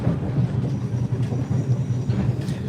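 Standard gauge Overland passenger train rolling near Belair: a steady low rumble and rattle of the carriage heard from inside, with faint rhythmic clicks of wheels over rail joints.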